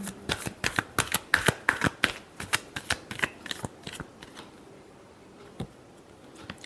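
Tarot cards being shuffled by hand: a rapid run of crisp riffling flicks that starts loud and close, then thins into sparse, softer taps, with no talking.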